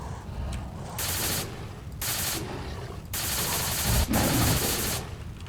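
Automatic weapon fire in a S.T.A.L.K.E.R. mod, OWR Infernal Edition, aimed at a bloodsucker mutant: four loud, rapid sustained bursts separated by short pauses, close and harsh over a constant game ambience.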